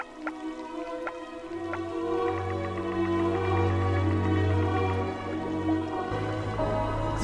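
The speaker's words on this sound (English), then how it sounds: "Bubbles of oxygen make the river water fizz like champagne." Oxygen bubbles fizz and tick in unpolluted river water around submerged water plants, with small droplet-like pops over a steady low hum, sounding close and moderately loud with no voices.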